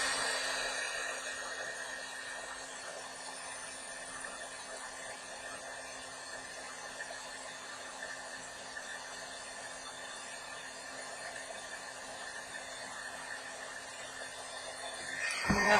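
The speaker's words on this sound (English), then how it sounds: "Get my trusty musty heat gun going." A heat gun melts UTEE embossing powder on handmade napkin paper beads, giving a steady, even whooshing blow of hot air that runs unbroken for the whole stretch with no talk.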